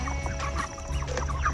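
Broiler chickens cluck and murmur close by inside a chicken tractor, a busy overlapping chatter from the flock over a steady low hum.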